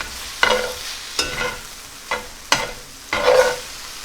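Cavatelli pasta sautéing and browning in a pot, with a constant sizzle under five distinct scrapes and clatters of stirring, close and fairly loud, no talk.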